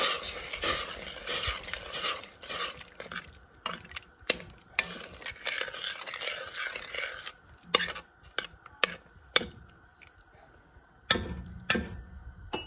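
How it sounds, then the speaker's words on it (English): Food being stirred in a pot: a string of close, irregular scraping and knocking strokes of a spoon against the pot, louder and denser at first, then sparser taps with short pauses, no talk. "Give this a good stir."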